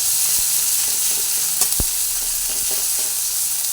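Cumin seeds sizzling alongside fish in a frying pan, an even close crackle broken by a few soft scrapes and one sharp knock of a utensil against the pan, no voices.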